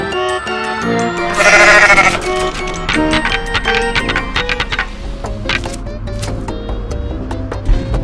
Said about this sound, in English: Goat again! Is that a goat?